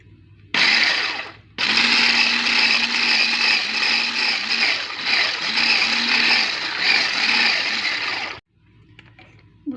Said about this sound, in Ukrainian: І я це все буду збивати міксером до однорідної маси.